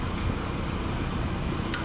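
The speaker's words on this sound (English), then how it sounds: "Excuse the fan noise, but it's very noisy in here" Steady whooshing fan noise, a constant broadband hum with no other sounds.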